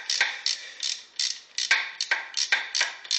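Socket ratchet clicking in quick bursts of pawl ticks while loosening a bolt on an Opel Astra G engine with the belt removed, close and dry with short pauses between strokes.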